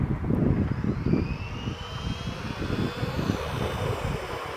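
An $80 RC car on a full-speed run outdoors, a continuous rushing motor whine with wind buffeting, its pitch gliding as the car races past at moderate distance.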